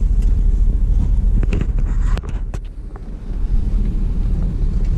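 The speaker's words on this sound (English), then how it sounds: "All right, so it's windy out." Strong wind buffets a microphone outdoors beside a 2003 Chevy Tahoe, a steady low rumbling roar that dips briefly and then returns at full force.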